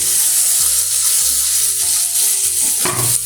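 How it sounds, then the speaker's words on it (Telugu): Onions with ginger garlic paste fry loudly in a pan for a mushroom curry, a constant close hiss with a few scraping stirs and a clank at the end. "కలుపుకొని పచ్చివాసన పోయేంత వరకు ఫ్రై చేసుకుందాము"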